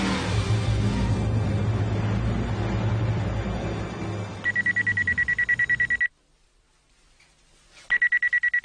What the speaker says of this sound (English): It's only a fire alarm.